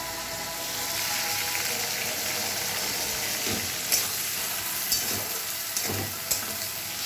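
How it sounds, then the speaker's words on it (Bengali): Green chili paste fries in oil in a pan with a dense, even sizzle throughout, close by, with a few light scraping strokes of a spoon. "এটাকে ভালো করে ভেজে নেব।"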